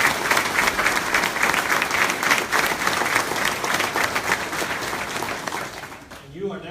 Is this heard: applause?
yes